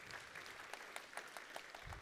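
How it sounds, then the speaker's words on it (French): An audience at a town hall New Year's wishes ceremony claps steadily, a soft, distant, continuous patter with a few sharper individual claps standing out. "Oui, vous pouvez les applaudir parce que c'est un énorme travail."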